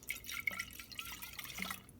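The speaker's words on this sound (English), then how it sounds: "Just a little bit of apple cider vinegar for the marinade, not too much." Apple cider vinegar is poured in a thin trickle into a steak marinade, a soft, faint liquid splashing and dripping that lasts about two seconds.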